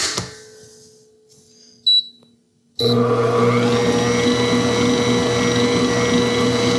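An Instant Pot Stand Mixer Pro, a 7.4-quart tilt-head mixer, hums briefly, cuts out with a short beep, then starts again with a steady, loud motor whir that holds evenly to the end.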